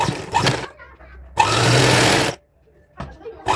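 A sewing machine stitches the legs of a designer outfit for a young girl, running in three close whirring bursts separated by short pauses.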